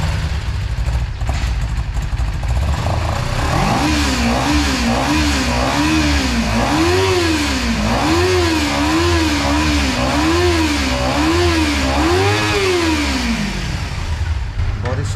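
A Kawasaki Ninja sport motorcycle engine idles close by, then revs up and down in a series of rising and falling bursts before settling back.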